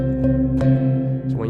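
Tuned 24-tone gong struck hard with the splash setting on, a few sharp hits over a rich, sustained ringing drone with bright splashy overtones, close and fairly loud.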